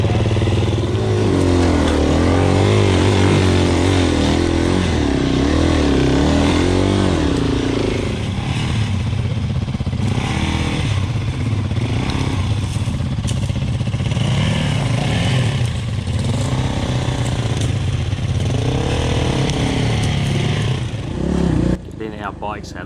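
A Yamaha WR450F dirt bike stuck on a bush fire trail, its engine revving hard and loud close by for a long stretch with some clatter, while people talk over it.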